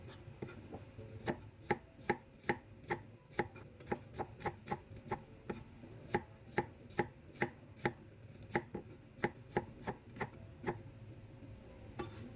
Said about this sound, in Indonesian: di sini saya ganti menggunakan 5 siung bawang merah ukuran sedang. Kita kupas dan kita potong kecil-kecil.